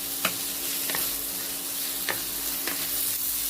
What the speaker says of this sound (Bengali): দিয়ে ভালো করে আবার নাড়াচাড়া করব